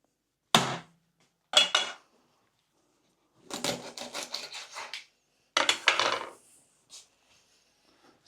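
Rabbit leg meat being cut up on a board for an oven-roasted rabbit dish, heard as a few separate close scraping, knocking cuts with short pauses between them and no talk.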